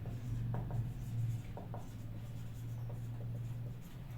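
Chalk or marker scratching out a table on a board during a chemistry lecture, short scratchy strokes with brief pauses, close and fairly quiet over a steady low hum of room noise.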